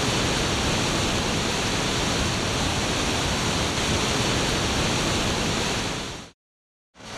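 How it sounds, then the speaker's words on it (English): Water pours over a river weir in a dense, steady roar of broadband rushing noise, close and loud, which cuts out abruptly near the end. "Weirs, like this one, are serious obstacles to salmon and other fish"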